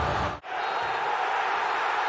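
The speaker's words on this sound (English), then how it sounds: "It's the biggest cheer of the season in the biggest game of the season" Huge stadium crowd roaring as Schalke score the late goal that seals promotion against St. Pauli, a dense sustained cheer filling the whole stretch after a split-second dip, loud and continuous with no talk.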